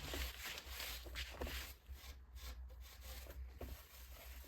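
A cloth or sponge rubs grout off the edges of a tile mosaic in quick, close scrubbing strokes, a soft rhythmic scraping and wiping with no talk.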